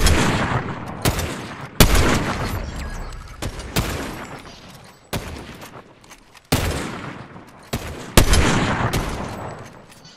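Distant gunfire from two teams fighting in the Fortnite battle royale game, repeated sharp bursts and volleys that decay between shots, fairly loud and with no talk over them.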